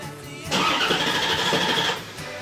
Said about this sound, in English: gonna crank over the car